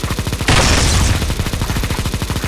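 Continuous rapid gunfire in CS:GO Zombie Escape on the ze_avalanche map, a steady fast rattle with a louder burst of blended shots near the start.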